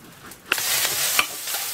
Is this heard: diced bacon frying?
yes